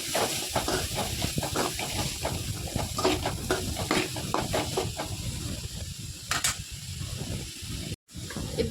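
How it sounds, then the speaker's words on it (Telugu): Grated carrot with salt being stirred in a pan, a steady hissing sizzle broken by repeated scraping strokes of the spoon, close and fairly quiet. "ఉప్పు వేసి మంచిగా కలుపుకుందాం"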